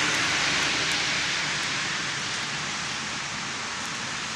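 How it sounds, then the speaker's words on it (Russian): Steady rain falls on a cold, gloomy day as an even, unbroken hiss that stays constant throughout with no other sounds standing out. "Дождь, холодно, такая мерзкая погода."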